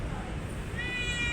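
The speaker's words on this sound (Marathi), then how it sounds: "त्यावेळेस मला इथे एक मांजर दिसलं" A cat meows once, short and fairly close, near a temple where worshippers walk around the shrine, over a steady background murmur.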